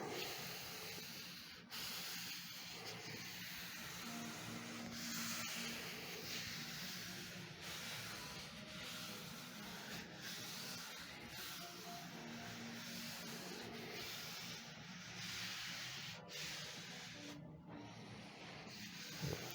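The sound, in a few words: rubbing paper onto a gelli printing plate to pick up paint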